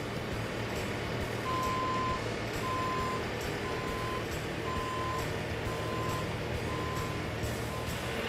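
A Bobcat skid steer loader reversing, its backup alarm sounding a regular series of about seven evenly spaced beeps over the steady rumble of the diesel engine.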